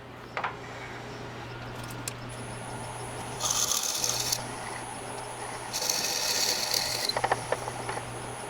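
A drill bores a hole through an alder cone pen blank held in pen jaws on a lathe, with two steady grinding whines over a constant motor hum and a few clicks and clanks, close by and without speech.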